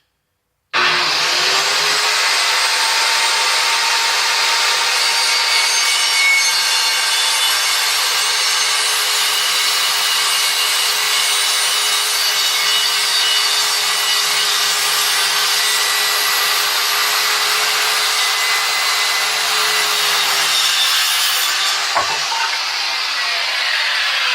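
A saw cuts through a wooden guitar body blank in one long, steady, loud rasp that runs for about twenty seconds, then stops abruptly. No one speaks.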